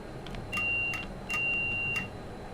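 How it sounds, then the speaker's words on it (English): Guard's buzzer aboard a Class 390 Avanti Pendolino in Train Sim World 5, sounding as two sustained electronic tones, each about half a second, over quiet cab ambience with faint short beeps around them. "are we going to get a guard's buzzer?"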